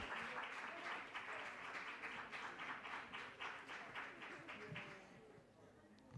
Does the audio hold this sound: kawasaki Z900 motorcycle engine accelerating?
no